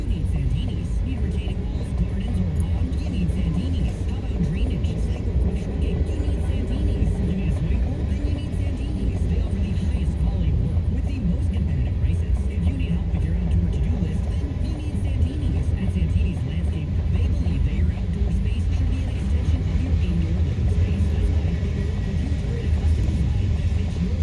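A CSX manifest freight train led by locomotive 3159 rolls past at Newburgh, New York, as a steady, loud low rumble and roar that holds unchanged throughout.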